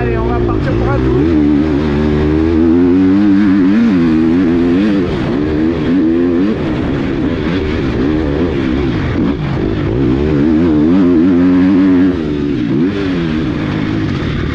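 Motocross bike setting off for a lap, its engine note loud and close throughout, with wavering pitch as the rider works the throttle, under continuous wind noise.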